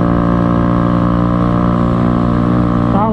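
A Honda MSX 125 Grom motorcycle is ridden in fourth gear of its four-speed gearbox, engine droning loud and steady at constant revs with a strong harmonic buzz and wind rush close to the mic.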